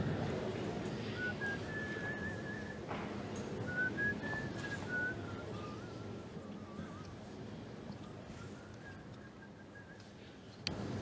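A person whistles a wavering tune during a pétanque match, the clear whistled notes running over steady outdoor noise and wind, with a short sharp click near the end.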